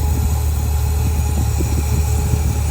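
A 1961 International C110 pickup truck engine idles steadily up close, a loud, even low rumble with a regular chugging pulse throughout.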